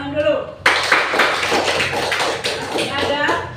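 Schoolchildren in an Indonesian classroom clap together in a dense, lively burst that starts abruptly and carries on steadily, loud and close, with a voice talking just before it begins.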